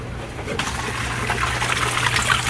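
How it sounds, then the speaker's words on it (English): A pump on a 600-gallon aquarium filter runs in rinse mode, flushing debris out of the filter media. It makes a steady, close rushing of water over a constant low motor hum, with no talk. "We're gonna turn the pump back on."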